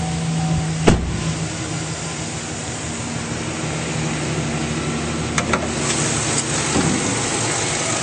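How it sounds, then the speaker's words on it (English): A 2008 Chevrolet Silverado 1500 crew-cab Z71 with an E85-capable engine idles under an open hood, a steady, even engine hum recorded close with a couple of faint clicks. "As you can see, everything's running very smoothly, and it's a nice, clean engine bay."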